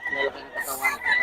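Gamefowl roosters kept by a breeder cluck and call in short bursts amid background chatter, with a voice talking over the birds throughout.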